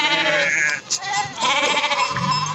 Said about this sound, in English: It's all sheep and goat here, as far as the eye can see.